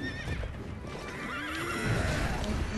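An armored war horse in Sekiro whinnies loudly with a wavering neigh near the middle, amid the rumble and clatter of a battle, with no voices over it.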